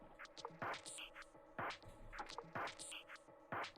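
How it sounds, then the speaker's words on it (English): An EDM-style glitch loop in a beat, with choppy, stuttering bursts of noisy, granular texture repeating in a steady pattern about every second, fairly quiet and with no voices. "So typically this glitch loop would probably be used as like an EDM thing."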